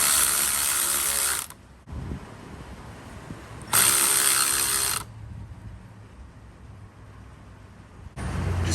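Ratchet clicking as a serpentine belt is tightened on a 1995–2004 Toyota Tacoma engine, with two loud bursts of rapid clicking separated by pauses and quieter fiddling noise, no talking.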